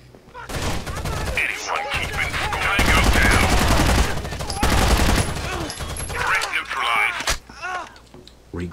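Dense bursts of squad gunfire in the Rainbow Six Vegas shooter, rapid overlapping shots that come in waves and stay loud and close throughout, with brief pauses and a few heavy thuds between volleys.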